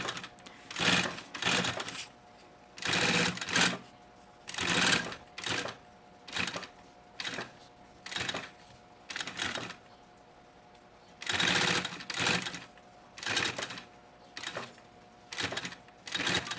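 A sewing machine stitches a synthetic leather pencil case in repeated bursts of rapid mechanical clatter, some short and some longer, separated by brief pauses, close and clear with no talking.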